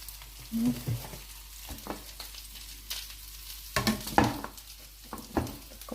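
Grated potatoes frying in oil give a soft sizzle, broken by clinks and scraping of a utensil against the pan at irregular moments.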